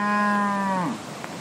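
A Brown Swiss dairy cow on a farm in Ocros, Ancash, Peru gives one long, loud, close moo that holds steady and then drops off. Faint farm ambience follows.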